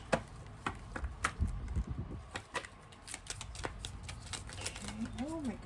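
Tarot cards being handled and shuffled, with quick papery riffles and soft slaps close by, mixed with some speech and low rustling.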